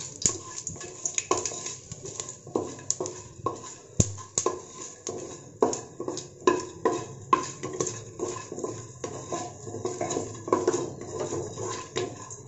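A spoon stirs black pepper and whole garam masala spices in a pan, making a steady run of close clinks, scrapes and knocks against the metal, repeating at an uneven rhythm throughout.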